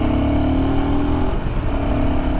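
A Himalayan 450 motorcycle revs hard and pulls away, its loud, close engine note climbing and then dropping briefly before building again, with no voices over it.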